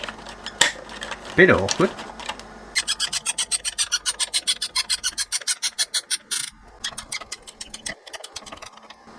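Metal tool scraping and rasping as a cover is slipped back onto a Revox reel-to-reel tape recorder, with a fast run of close, even scratchy strokes after a few clunks and a brief spoken remark.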